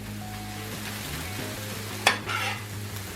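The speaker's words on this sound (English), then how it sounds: "Get that egg chopped up in there." Egg being chopped and scraped into home-cooked dog food of veggies and meat in a pan: one sharp knock of a utensil against the pan and a short scrape after it, over a low steady hum, with no talking.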